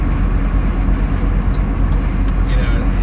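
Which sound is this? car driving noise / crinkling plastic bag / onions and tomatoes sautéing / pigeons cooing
car driving noise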